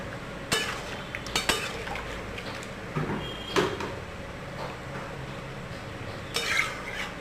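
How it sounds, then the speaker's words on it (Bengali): Spices are stirred with warm water in a cooking pot while making Bengali milk shukto: a spoon scrapes and clinks against the pot in scattered, irregular knocks over a low kitchen background. "এবার মশলাটা ভালো করে মিশিয়ে নিয়ে আমরা দিয়ে দেব সামান্য পরিমাণ জল"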